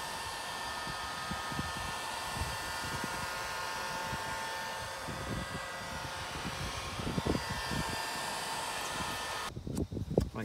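A heat gun blows a steady, loud airy roar while heating a crankcase ventilation pipe elbow, with faint knocks and handling sounds underneath, before the blower cuts off near the end and a few clunks follow.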